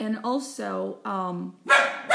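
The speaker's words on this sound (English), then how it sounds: "I apologize, that's my dog barking." A pet dog barks indoors in a few sharp, close bursts, with a voice speaking in between.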